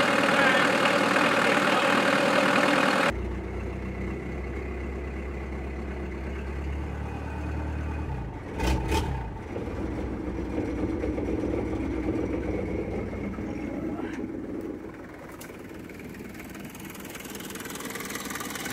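A low, steady old diesel engine rumble idles with a rough, uneven chug and a broken exhaust, running continuously at moderate volume with a brief louder burst partway through.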